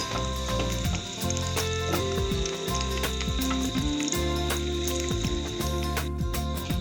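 Cashews sizzle steadily in hot fat as they are tossed in a pan while preparing carrot halwa, a continuous close frying hiss with soft stirring knocks and tonal sounds running throughout.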